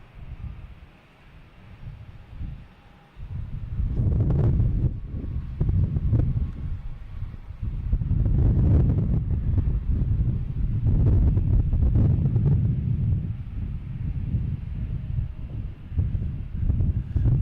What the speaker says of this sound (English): it's a little gusty.